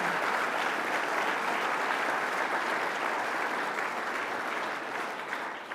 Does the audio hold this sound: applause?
yes